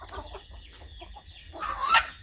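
Chickens clucking softly and intermittently at moderate distance, with a louder squawk near the end over a quiet outdoor background.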